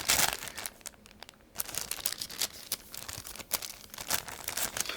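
Origami paper being unfolded to reopen its folds while making a traditional Japanese snail, close crinkling and crackling in irregular bursts, loud and papery, with no talk.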